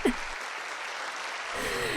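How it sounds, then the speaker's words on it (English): Dense, steady applause from a crowd in a video game fills the whole clip, loud and continuous with no voices on top. "As the applause continues to rain down, they all bow in return."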